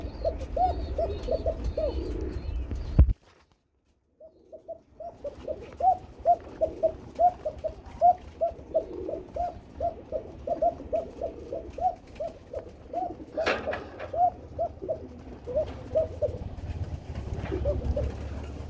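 Pigeons cooing at a pigeon farm in Bangladesh, a steady series of low rhythmic coos repeating close by, with a brief silent break near the start and faint background noise.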